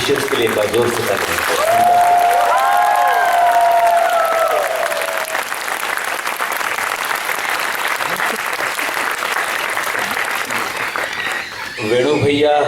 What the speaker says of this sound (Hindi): म्यूजिशियंस के लिए एक बार जोर से तालियां।